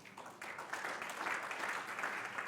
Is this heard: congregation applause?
yes